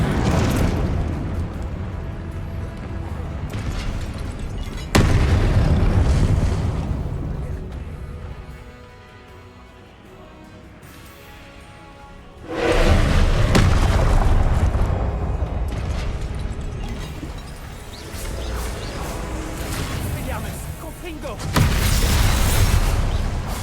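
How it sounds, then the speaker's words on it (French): Several loud, booming spell blasts from the video game Hogwarts Legacy go off in bursts, each a roaring explosion that rumbles and fades, with quieter gaps between them. "fait mal aux oreilles les explosions un peu."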